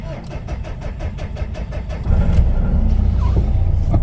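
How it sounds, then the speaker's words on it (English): A 2009 Mitsubishi Triton cranks with a rapid rhythmic starter whir for about two seconds, then the engine catches and settles into a steady, fairly loud idle. "So start the car."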